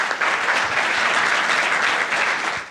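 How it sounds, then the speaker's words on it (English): Dense, loud applause from an awards ceremony audience carries on steadily for the whole moment after a startup pitch, a full crowd clapping with no voices over it. "So applause for the pitch"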